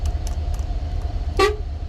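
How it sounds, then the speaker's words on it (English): A single short blast of a Van Hool bus air horn sounds nearby, loud and brassy, over a low idling engine rumble. "it's a proper air horn."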